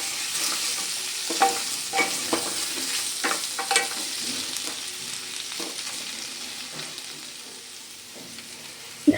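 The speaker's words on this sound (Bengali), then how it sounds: "আলুটা কিন্তু আমার ভাজা ভাজা হয়ে এসছে, ভালো করে নেড়ে চেড়ে নিয়েছি।" Potato pieces fry in a pan for a vegetarian potato curry, a continuous close sizzle broken by repeated scraping strokes of a spatula as they are stirred, with no voices.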